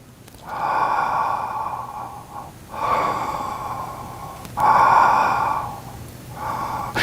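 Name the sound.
breathing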